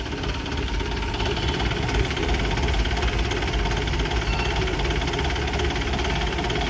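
A Mahindra Commander diesel jeep engine idles close by, a steady rough knocking rumble with no pauses.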